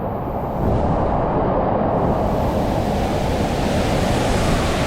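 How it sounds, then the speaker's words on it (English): Water rushes and splashes loudly and continuously while riders go down a funnel slide at an indoor water park, a dense close roar of spray and flow that fills the whole span with no talk. "That one splashes you in the face a lot."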